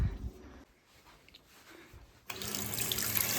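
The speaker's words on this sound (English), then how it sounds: "The hot water doesn't stop." Hot water gushes steadily from a household tap after the cold supply to the boiler has been shut off, a quiet pause giving way to a strong, continuous splashing flow.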